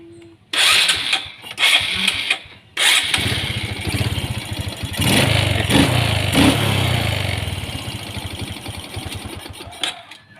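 A Honda Supra X 125 motorcycle with a hard-starting, sputtering engine catches with a couple of short bursts, then settles into a loud, steady idle that swells as it revs and eases back down, close up.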